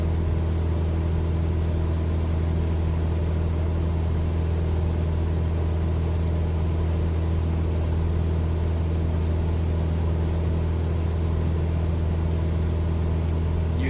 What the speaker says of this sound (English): Engine still full revving.